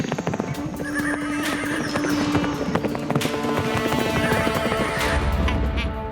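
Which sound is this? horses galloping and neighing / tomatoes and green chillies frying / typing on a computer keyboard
horses galloping and neighing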